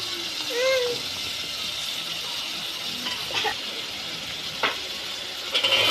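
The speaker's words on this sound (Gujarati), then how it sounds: "કંકોડા અંદર નાખી દીધા તપેલીની અંદર ચમચા વડે તેને હલાવી દઈશું" Spiny gourd (kankoda) drops into a hot pot with a steady sizzle, followed by a few scraping stirs of a spoon against the metal, close by.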